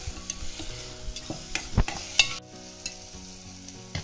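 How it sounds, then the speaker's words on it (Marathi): A Marathi tempering in a pan, with chili powder tipped in and stirred for a dried-fish, brinjal and potato curry, sizzles and crackles up close while a spoon scrapes and knocks in short strokes, fading near the end. "बघा फोडणी बघा किती छान सुरेख झाली"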